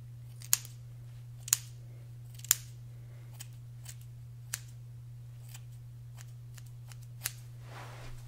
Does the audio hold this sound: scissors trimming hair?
yes